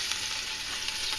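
Duck legs browning in a hot pan give a steady, close sizzle of spitting fat, holding an even level the whole time with no voices.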